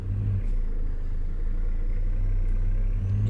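Steady low drone of a truck engine in a truck simulator game, Cummins-type engine with W9-style sound, holding an even mid-level rumble throughout with no talk.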